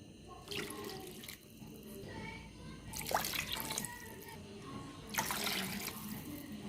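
Water runs from a tap in a few bursts, splashing and gurgling as it fills a pot for Kerala-style rasam, with faint background noise between.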